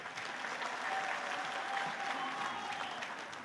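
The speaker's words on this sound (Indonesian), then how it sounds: "Tepuk tangan untuk beliau." Audience applause for the president at the opening of a national farmers' and fishers' week event, a steady, fairly distant wash of clapping from a large crowd lasting a few seconds.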